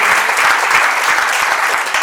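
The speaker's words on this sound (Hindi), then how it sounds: "एक बार जोरदार तालियां" Loud, dense applause from an audience at a company awards and recognition program, with many hands clapping continuously and evenly throughout, close and full.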